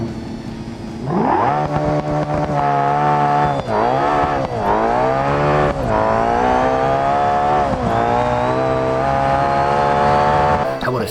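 A drag car in the BeamNG game screams down the strip, its engine climbing through several hard upshifts with brief dips between gears, loud and close with a touch of tire spin.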